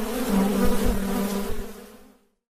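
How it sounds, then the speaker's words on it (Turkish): Kosköy bees, a local Caucasian honeybee hybrid, buzz loudly and close for about two seconds before the sound cuts off. "Kafkas arısının bir melezi olan, yöremize özgü Kosköy arısı olarak bilinen bir arı türünün varlığından da söz edebiliriz."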